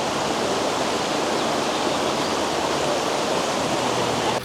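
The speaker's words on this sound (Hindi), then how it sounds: "जो नदी की आवाज़ होती है पानी के बहने की," A riverside stream rushes continuously beside huts, a dense, loud, even wash of flowing water that stays steady throughout with no voices.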